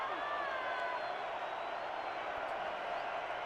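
Stadium crowd at a Fort Worth at Tulsa football game makes a steady, dense roar of many voices that holds evenly throughout without breaks.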